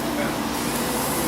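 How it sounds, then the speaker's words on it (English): Glue sprayed onto the slide-out of a water-damaged 2008 Forest River Cherokee RV during repair, a steady close hiss of spray lasting the whole moment with a faint workshop background. "just spraying down the glue"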